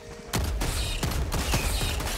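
Rapid bursts of automatic gunfire in the Helldivers 2 video game, loud and close, with several sharp volleys and mechanical clatter between them.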